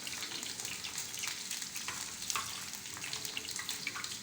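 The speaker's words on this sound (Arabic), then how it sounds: "عما البرنجان التاني يتحمر" Eggplant fries in hot oil with a continuous bright sizzle and crackle, close and steady throughout, with no talking.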